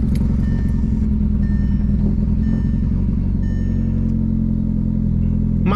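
A tuned Stage 2 MK4 Volkswagen GTI engine idles loud and close right after its first startup, a steady dense low rumble throughout with no talk.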